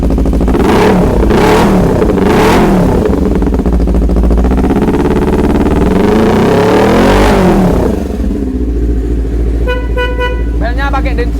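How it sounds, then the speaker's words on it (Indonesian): A loud motorcycle with an Austin Racing aftermarket exhaust revving close by, several sharp throttle blips swelling and dropping back, followed by a brief honk near the end. "Suara knalpot"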